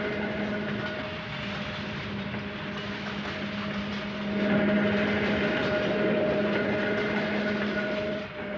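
An interurban electric railway train runs through the countryside, a steady mechanical rumble with sustained motor hum tones that swell louder midway, continuous and fairly close, with no talk.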